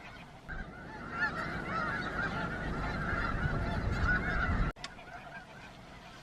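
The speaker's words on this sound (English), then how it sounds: "Right now there are lots of geese" A large flock of geese honks continuously at Bosque del Apache wildlife refuge, a dense overlapping chorus of calls at moderate distance that cuts off abruptly near the end.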